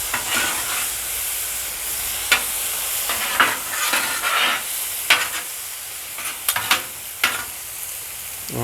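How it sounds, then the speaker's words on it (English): Mushrooms sizzle on a hot griddle with a constant steamy hiss, broken by several sharp scrapes and clanks as a spatula stirs them, close and without talk. "I'll move those mushrooms around."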